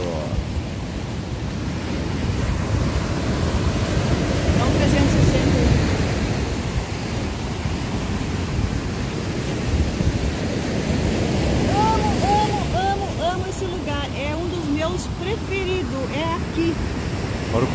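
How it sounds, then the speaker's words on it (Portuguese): Strong ocean surf breaks continuously on a dangerous beach, a loud, steady wash of waves with wind roaring across the microphone and swells surging in repeated rushes. "Tão forte que são as ondas aqui."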